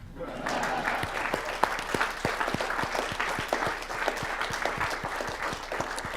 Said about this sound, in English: Applause are also fine.